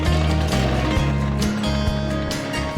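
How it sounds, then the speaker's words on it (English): A sawmill engine holds a steady constant speed of roughly 1800 RPM while driving the saw blade, giving a loud, continuous droning hum with a low, even tone and no pauses. "So I pretty much got the engine set at constant speed."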